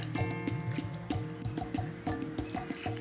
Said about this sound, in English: Wash this dal very well 2 to 3 times till most of the starch is removed and the water appears clear